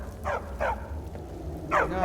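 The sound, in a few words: dog barking in Skyrim video game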